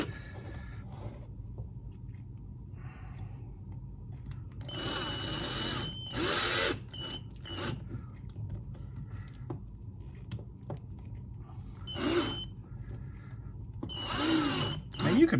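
Power drill boring into a small O scale model construction barrel, heard in several short loud bursts of whirring between quieter gaps, with a steady low hum in the background.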